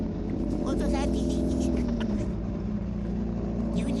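A motorcycle passes close by on a busy street, its engine note swelling and sliding over a few seconds above a steady low traffic rumble, with voices faintly underneath.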